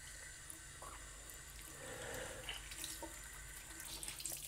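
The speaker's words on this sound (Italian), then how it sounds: "Mi serve l'acqua corrente." Running tap water at a sink for washing up, a steady hiss of flow with small splashes throughout, continuous and fairly close, with no talking.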